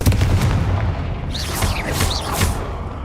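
A Confringo fire spell in the Hogwarts Legacy video game erupts as a loud, heavy boom, followed by rumbling and bright swooshing, sparkling whistles layered over the low blast, with no talking.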